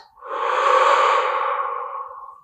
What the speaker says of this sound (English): breathing deeply into your diaphragm